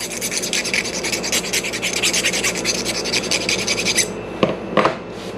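A speargun cable's butt end is shaved down with rapid, rhythmic rasping strokes, loud and close, that stop abruptly and are followed by a few sharp clicks and knocks.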